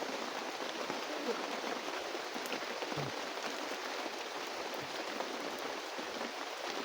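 Heavy rain pours down in a steady, loud, unbroken hiss that fills the whole scene with dense drumming on surfaces and no clear gaps.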